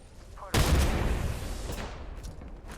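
Sudden loud burst of grenade explosions and rapid gunfire in the Apex Legends video game, a sharp onset followed by a rumbling, crackling decay over a couple of seconds.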